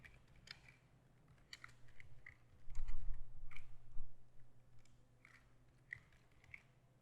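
Someone types on a computer keyboard while entering employee data into clinic software: bursts of close, crisp key clicks in uneven runs, with a brief louder stretch of faster typing midway and no talking.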